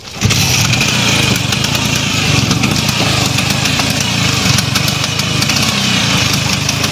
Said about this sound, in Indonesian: Aya motor si Wahyu